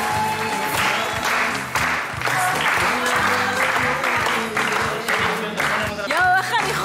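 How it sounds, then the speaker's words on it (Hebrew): A crowd claps enthusiastically to welcome a house singer at a lively party, loud continuous applause running over a steady thumping music beat, with voices and cheering mixed in near the end. "קבלו במחיאות כפיים סוערות את זמר הבית שלנו"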